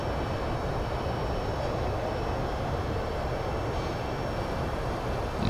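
Steady, loud broadband roar of a Boeing 767 airliner's engines in the X-Plane 11 flight simulator during descent, a continuous even drone with no breaks and no talking.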